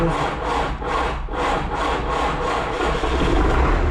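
A tractor engine starts in cold weather with a loud, rhythmic chugging and rough pulsing beats over a low rumble, repeating steadily at close range.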